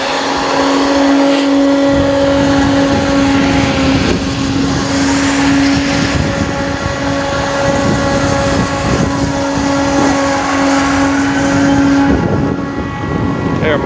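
Snow machine spraying to make ice for toboggan slides at Pullen Park in Raleigh, North Carolina, a loud steady mechanical roar with a droning hum that holds throughout, joined by faint crowd noise.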